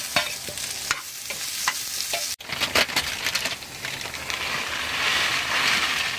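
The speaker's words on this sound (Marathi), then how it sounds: "आता हे असे 2च मिनिटं इथे तव्यामध्ये परतवून घेऊया" Steady sizzling of onions stir-frying in oil in a pan, with occasional scraping stirs, a brief pause midway, then continuous crackling sizzle.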